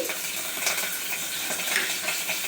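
Dried red chillies and curry leaves frying in hot oil for rasam, giving a steady close sizzle with light crackles and a faint stir, with no talking.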